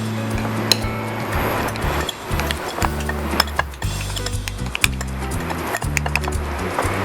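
Chicken breast mixed with cumin, turmeric and pepper in a bowl sounds as a run of close clinks, taps and scraping stirs in an irregular rhythm, with no speech.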